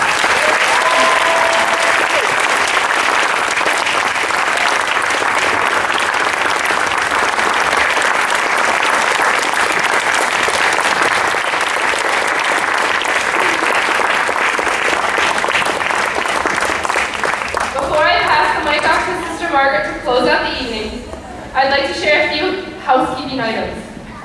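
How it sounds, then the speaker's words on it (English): Audience applause at a sports recognition event, a dense steady clapping from a large crowd lasting about eighteen seconds before thinning into scattered claps as people begin to talk. "Let's give Sister Margaret a big round of applause."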